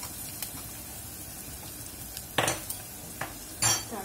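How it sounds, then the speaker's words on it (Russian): Sesame seeds stirred while toasting in a pan, giving faint scraping stirs over a low background hiss, with two sharper bursts of stirring or clinking near the middle and end. "Просто когда жарите кунжут, он раскрывается."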